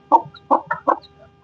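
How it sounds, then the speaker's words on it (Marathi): A hen clucks beside newborn chicks, giving four short, loud, close clucks in a quick uneven run with faint peeps between them and nothing else. "कशी कोंबडी मारायला येते ते बघा"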